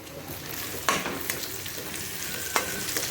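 Vegetables such as yardlong beans and ridge gourd fry in a pan with onion and spices, giving a steady close sizzle with two sharp scraping stirs and no voices.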